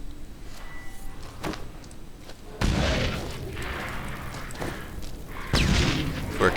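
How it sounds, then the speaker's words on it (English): Bomb blasts in Witcher 3 combat, two heavy booming bursts with a sustained rumbling roar after each, loud over a constant background of game noise. "We could probably also just throw some bombs at him."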